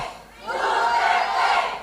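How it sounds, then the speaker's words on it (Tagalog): A rally crowd at a Philippine political speech lets out a loud, swelling roar of shouting voices that rises after a brief lull and holds for over a second before easing. "Sigawan ng mga siraulo, mga kaibigan."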